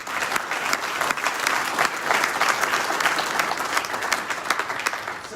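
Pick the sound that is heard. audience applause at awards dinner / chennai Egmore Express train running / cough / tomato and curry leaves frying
audience applause at awards dinner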